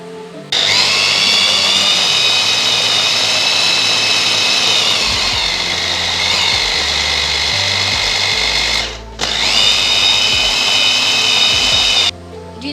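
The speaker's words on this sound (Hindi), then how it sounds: "आप देख सकते हैं हमने सारे मसाले ग्राइंड कर लिए हैं" An electric kitchen grinder pulverizes dry spices, among them chili powder and coriander, for a keema dish. Its loud, steady whirring motor runs for about eight seconds, stops briefly, then runs for a few more seconds, with no talking.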